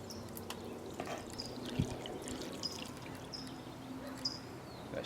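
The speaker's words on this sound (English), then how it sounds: "So we're just going to pour some water down the drip tray." Water poured down the drip tray of a Volkswagen Bus during rust treatment, a faint, steady trickle and splash running throughout with a few small knocks, no voices.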